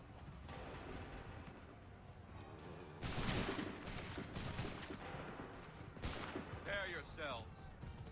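Musket volleys from Assassin's Creed III: sharp, loud broadband cracks at about three and six seconds, each a ragged burst rolling over a noisy battlefield bed, with a voice speaking near the end.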